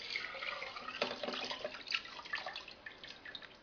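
Dye-mixed water pours and splashes into a bucket, a fairly quiet, uneven gurgling stream that trails off toward the end.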